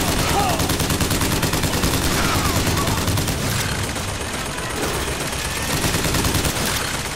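Dense, rapid gunfire from assorted weapons in Bioshock Infinite, steady automatic bursts mixed with heavier shots, loud and continuous with game commotion throughout.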